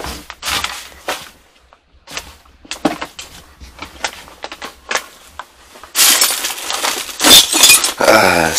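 Boots crunching through broken glass and debris in an abandoned hoarder house, a series of irregular close crunches and clinks separated by brief pauses, growing denser and louder near the end.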